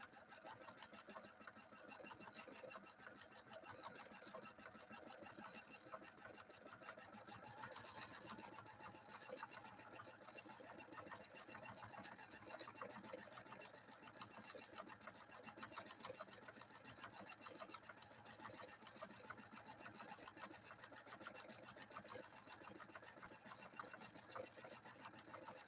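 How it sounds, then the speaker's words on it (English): A Husqvarna sewing machine fitted with a Schmetz 7511 embroidery stick needle runs in a fast, even, continuous whir, faint and steady throughout with no voices. "I'm sewing with a 7511 embroidery needle by Schmetz"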